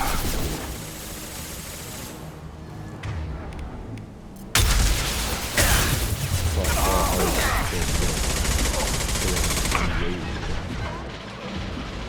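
Mass Effect 2 combat: bursts of gunfire and a loud, sudden blast from an inferno grenade, followed by dense, sustained crackling and rumbling action, with voices talking over the fighting.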